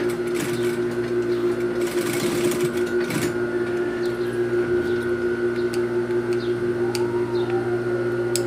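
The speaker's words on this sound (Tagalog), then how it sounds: "Diba, sandali lang tahiin ang ating ref towel." A sewing machine stitches a refrigerator hand towel, running in a steady, continuous whir with a constant mechanical hum and rapid needle rhythm, close and alone without talk.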